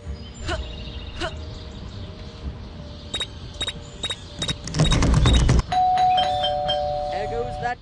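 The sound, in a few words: doorbell ringing in video game Scary Teacher 3D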